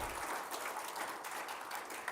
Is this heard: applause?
yes